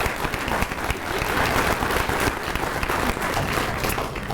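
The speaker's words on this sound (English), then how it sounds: "Please give all of them a round of applause." An audience at an evening awards event for secondary schools claps for district staff, a dense, loud burst of applause that holds steadily with no talking over it.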